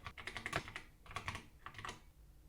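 Rapid keystrokes on a computer keyboard come in three close bursts of clicking, steady and near, with short pauses between runs and no voices.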